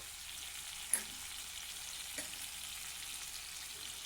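Turmeric and red chilli powders fry in hot oil for a Bengali pointed gourd dish, giving a faint, steady sizzle with a couple of soft clinks, and no voices.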